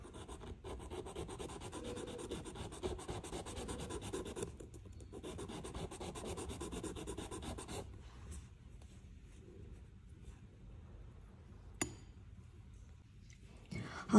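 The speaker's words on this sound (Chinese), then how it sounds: "现在呢我们就要用到这个第一遍280目的油石来进行一个打磨" A 280-grit oilstone rubs across Hetian jade in steady, close scraping strokes for about eight seconds, then quieter intermittent rubbing follows with a sharp click near the end.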